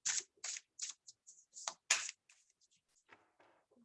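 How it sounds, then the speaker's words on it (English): A deck of chakra cards is shuffled by hand in a series of quick papery riffles and flicks, close and crisp, with irregular bursts separated by short pauses and softer slides toward the end. "let's just ask for a card to complement that card while I shuffle these"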